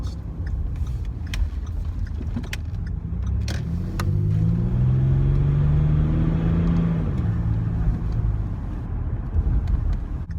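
A Ford Territory's 2.7L V6 turbo diesel with the muffler deleted idles and then revs up, the deep rumble swelling into a rising drone before settling back, heard close and steady with no talk.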